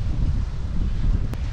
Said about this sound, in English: 12 knots of wind on the nose